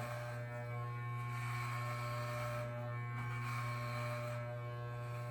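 Electric hair clippers shave a head down to bald, a steady motor buzz running close and unbroken with no talk over it.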